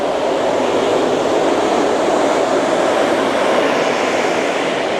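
A light rail train at LAX gives a steady, loud rumble that fills the whole stretch evenly, with no talk over it.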